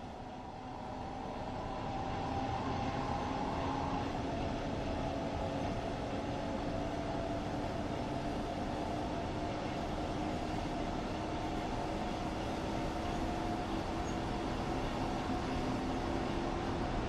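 BR 146.2 electric locomotive hauling double-deck passenger coaches on the Main Spessart line in Train Sim World 4, a steady rolling rumble with a faint motor whine, continuous and moderately loud throughout with no voices.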